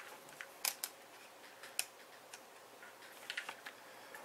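The mode dial on a Canon Rebel EOS T2i camera is clicked around to manual, giving a quiet series of sharp, close plastic ticks spaced irregularly, with no voices.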